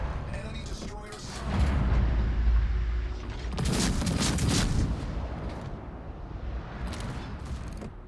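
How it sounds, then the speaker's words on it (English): Naval gunfire from warships in a naval combat video game, heavy booming salvos and rumbling blasts rolling in waves, loud and dense, with a voice commentating over the battle. "The Jervis is shooting the transports now."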